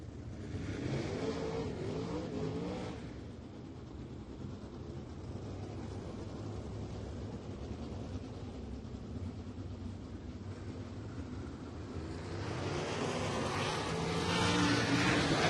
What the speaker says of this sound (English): Getting a little bit of heat into their engines, getting them warmed up, ready to go.